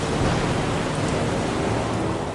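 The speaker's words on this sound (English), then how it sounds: "you start hearing the hammering sound of rain on the fuselage" Heavy rain hammers on an aircraft fuselage in a storm, a dense, loud, unbroken roar of drumming drops that fills the space with no voices over it.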